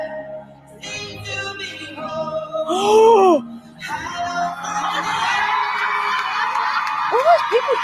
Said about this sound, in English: All those people cheering.